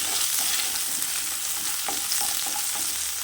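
Onions and fennel seeds sauté in a pan for a fish curry, making a dense, steady sizzle with soft stirring scrapes, close and fairly loud, with no voices.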